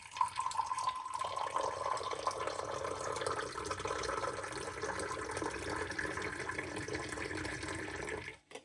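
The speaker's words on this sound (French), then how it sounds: "Vous levez la théière au maximum et vous versez." Mint tea poured from a teapot held high into a glass, a steady continuous liquid stream running close by for about eight seconds before stopping abruptly, with no talk.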